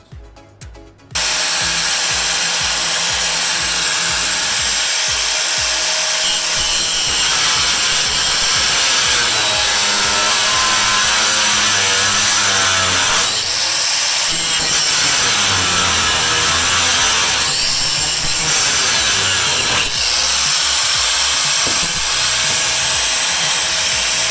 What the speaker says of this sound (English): start cutting off some bolts